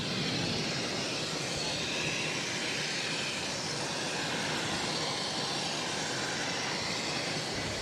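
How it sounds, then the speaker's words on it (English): An American Airlines Airbus A319 jet takes off from runway 22 right at Boston, a loud, steady broadband roar of jet engines that holds throughout with no talk. "Now taking off on 22 right, American Airlines flight 2892 taking off to Portland,"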